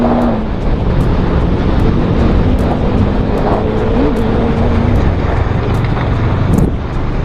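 A motorcycle rides at 90 km/h, picked up by an Akaso V50 Pro camera mic. Heavy, continuous wind buffeting and road rumble cover a steady engine drone.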